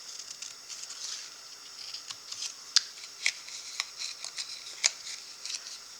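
Small scissors snipping a notch into card, a series of faint, sharp close-up clicks and crisp cuts spaced irregularly over a quiet background.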